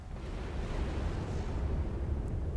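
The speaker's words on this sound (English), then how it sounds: "they're all gonna hit and they're all gonna explode. The nuclear explosions do not destroy each other." Nuclear explosions from the strategy video game Planetary Annihilation: Titans, heard as a steady, heavy low rumble with a broad roar sustained throughout, without distinct individual blasts and with no voices.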